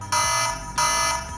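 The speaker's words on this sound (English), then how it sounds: "That's my Dome alarm." A Dome smoke alarm sounds in a living room, two loud, shrill electronic beeps each lasting about a third of a second, sharp and close, with no voices.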